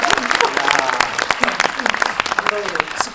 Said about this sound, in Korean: 감독님 박수 한번 보내드릴까요?